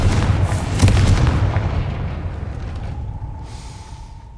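A Confringo spell blast in Hogwarts Legacy lands as a loud, deep boom at the start, then rumbles and decays into a long fading tail, with a faint steady tone lingering near the end.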